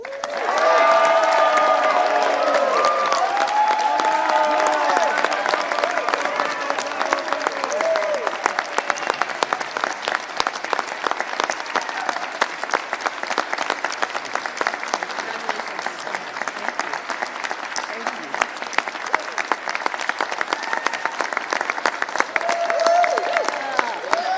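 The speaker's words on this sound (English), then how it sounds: "they're clapping for you, Reggie, from the rafters." An audience gives sustained, loud applause for the introduction of Massachusetts' first Poet Laureate at a governor's announcement. The clapping is mixed with some crowd voices and holds steady throughout.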